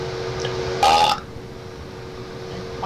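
A single short, loud burp from a man in a bathtub, heard over the steady hum of a running fan.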